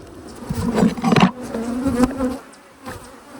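Honey bees buzz around an open beehive during an inspection, a close, wavering drone that swells and fades as individual bees pass near, with no talk.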